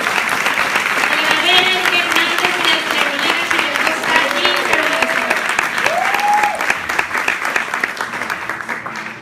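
Loud, sustained applause fills the room at a corporate training event, with cheering voices rising over the dense clapping before it tapers slightly near the end.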